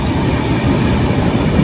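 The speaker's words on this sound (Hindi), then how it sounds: "अभी हम लोग छोटे छोटे स्टेशन को अभी क्रॉस कर रहे हैं" Bandra–Haridwar express train rolling through small stations near Mumbai in light rain, a loud, steady rumble of wheels and carriage noise heard from inside the coach.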